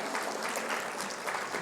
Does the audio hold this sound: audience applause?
yes